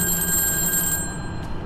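A telephone rings loud and close inside a house in the video game Dark Hours, one sustained ring that cuts off partway, with no speech over it.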